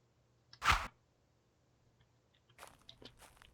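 A dog in the UnReal World game eats its food in one loud crunching bite, followed by a quiet pause and then a run of softer chewing and crunching sounds, close by with no talking.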